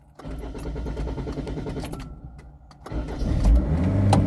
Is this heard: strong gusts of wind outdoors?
no